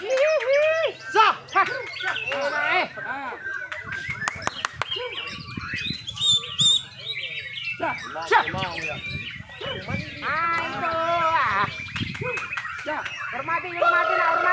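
A white-rumped shama (murai batu) sings at a bird contest: dense, varied whistles and chirps run almost continuously over crowd chatter and shouting, with a dog barking at times.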